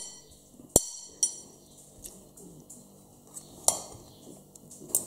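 A spoon clinks and scrapes against a dish while mixing pancake ingredients, with a few sharp taps scattered over soft mixing noise, close and fairly quiet.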